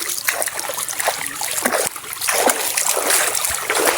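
Water splashes and trickles in a forest stream as someone washes, with close, irregular sloshing and dribbling bursts filling the scene.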